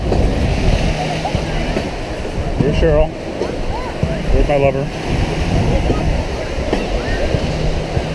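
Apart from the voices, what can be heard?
ocean waves on a Pacific beach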